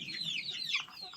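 Free-range chickens cluck in a Marathi poultry yard where hens and chicks are kept, a busy, close-up chatter of overlapping clucks over a low ambient rumble.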